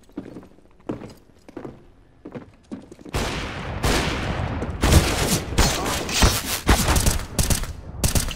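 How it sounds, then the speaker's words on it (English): Gunfire in the game Counter-Strike: Global Offensive, starting with scattered single shots and then breaking into loud, dense bursts of rapid fire, close and harsh, with no talking over it. "Don't shoot!"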